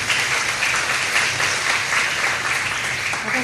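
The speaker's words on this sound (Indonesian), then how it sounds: "Bolehlah tepuk tangan di situ ya." A church congregation breaks into steady, dense applause, many hands clapping loudly and evenly throughout the moment, with no voice over it.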